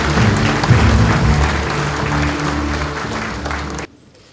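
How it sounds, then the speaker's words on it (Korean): An audience at a formal ceremony claps steadily for about four seconds as a Korean prime minister takes the podium, with a low hum underneath, before the applause cuts off abruptly into near silence. "큰 박수 부탁드립니다."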